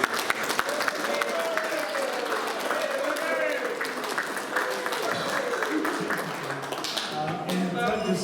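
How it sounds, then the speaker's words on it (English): Dense applause from an audience at a rugby club prizegiving in the clubrooms, many hands clapping steadily for several seconds with some voices mixed in. "Big round of applause for Doug."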